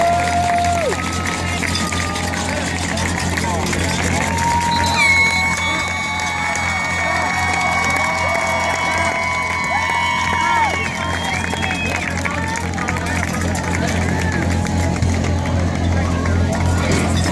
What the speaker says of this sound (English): Let's give our teams a round of applause.